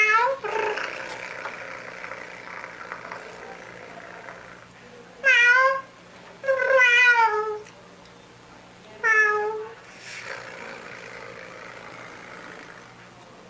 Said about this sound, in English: The cat. Meow.